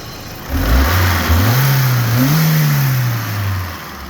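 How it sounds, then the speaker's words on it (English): A BMW E30 318i Lux convertible with its 1.8-litre four-cylinder engine and manual gearbox revs up from idle, climbing and falling through two or three swells before settling back, steady and close by with no talk. "I'll rev it a little bit"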